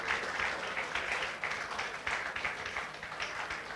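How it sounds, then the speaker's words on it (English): An audience applauds steadily to welcome the keynote speaker at a community and career talk, a dense, sustained wash of clapping throughout with no speech over it. "Keep clapping till he comes up."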